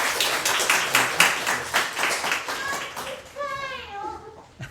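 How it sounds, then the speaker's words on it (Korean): Congregation clapping during a Korean church Sunday service, a warm wash of many hands for about three seconds in a large room, fading as a voice and other talk take over. "박수해 주시기 바랍니다."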